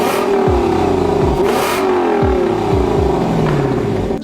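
Lexus LC 500 convertible's engine revving hard in repeated loud surges, each rise dropping back with a falling pitch, close and continuous with no voices.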